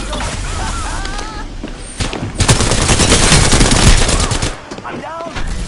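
Rapid bursts of automatic gunfire in the Apex Legends video game, a dense loud volley in the middle with scattered shots around it, with brief game voice lines before and after.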